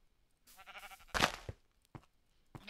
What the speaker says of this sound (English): Yes, sheep, I do hear you.